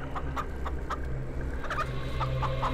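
Chickens clucking in a farm coop, with repeated short clucks in an irregular rhythm over a low steady hum, moderately close and fairly quiet, no talking.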